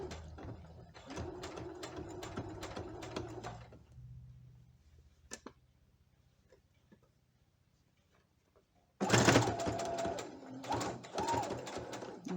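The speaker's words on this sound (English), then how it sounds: "I'm removing the pin and continue doing the stitch" A home sewing machine stitches heavy shorts fabric in two bursts of rapid mechanical chattering, with quiet handling clicks in the pause between them and no voices.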